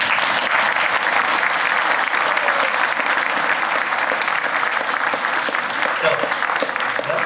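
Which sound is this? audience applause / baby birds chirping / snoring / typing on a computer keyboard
audience applause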